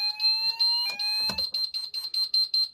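A FirePoint-2 addressable fire alarm system under test in a shed sounds a high, piercing electronic tone that pulses in rapid repeated beeps, loud and close, with no one speaking.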